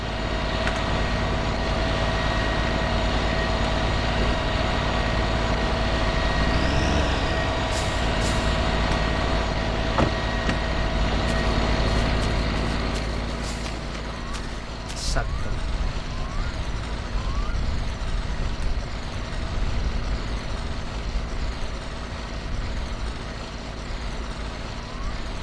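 A car engine in My Summer Car idles and drones steadily as the car reverses, a constant low hum holding throughout with a few faint clicks and knocks, and a quiet voice now and then.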